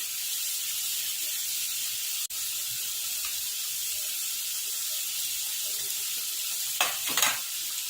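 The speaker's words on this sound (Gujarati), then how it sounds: "તો હવે પનીર એડ કરીશું આપણે." Paneer sizzles in a masala puree for veg biryani, a soft steady hiss with a sharp click early on and a couple of scraping stirs toward the end.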